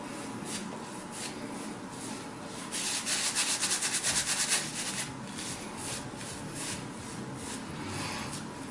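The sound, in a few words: razor shaving off whiskers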